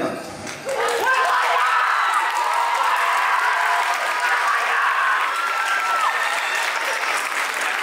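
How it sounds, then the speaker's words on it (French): An audience at a school theatre and choir show against harassment applauds and cheers the actor Ryan, with dense sustained clapping and scattered whoops throughout that swell in after a brief opening moment. "tu mérites tous nos applaudissements"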